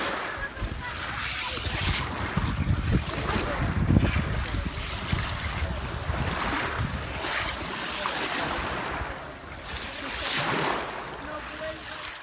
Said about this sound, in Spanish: les invito a que escuchen un poco el mar de fondo